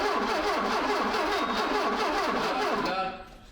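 A rusty car engine cranks steadily on a booster pack for about three seconds in rhythmic, labouring turns without catching, then the cranking stops and fades.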